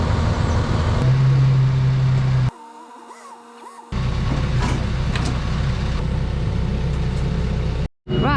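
A Rover car being pushed a couple of meters, with steady mechanical rumble and creaking under loud handling noise, a brief quieter gap, then the rumble resumes before an abrupt cutoff near the end.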